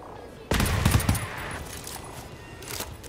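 Gunfire from an HC pistol in a video game, heard at long range: a sudden sharp burst of a few quick shots, then a fading tail under a low background.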